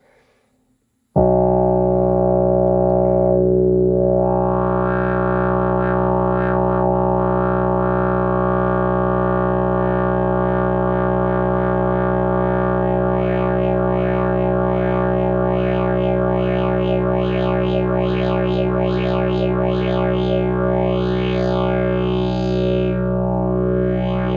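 A droning Prophet Rev2 synthesizer didgeridoo patch, rich in harmonics, sustains steadily in unison mode with thickened voices and swirling overtones that shift throughout, no talking.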